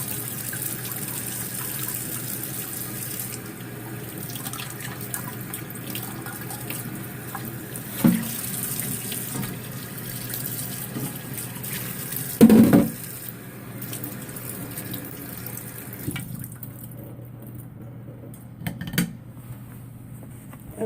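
Tap water runs steadily into a sink during handwashing, giving a continuous close rush with a few splashes and knocks. The flow cuts off near the end.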